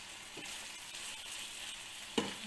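Liver and onions fry slowly over low heat, giving a soft, even sizzle close by, with a couple of brief louder spits and clicks near the end.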